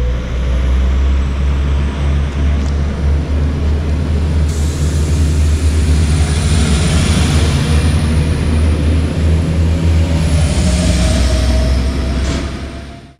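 A train pulling out of Frankfurt Niederrad station, heard as a loud, continuous rumble with rising wheel and motor whine that holds steady close by before dropping away at the end.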